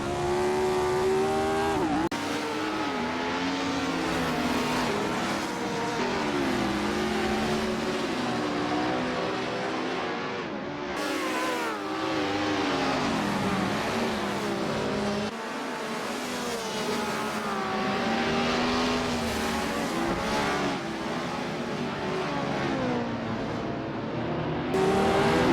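A 1967 Formula 1 race car engine screams continuously at the Dutch Grand Prix in a racing video game, loud and close, its revs rising and falling through gear changes with a brief dip midway.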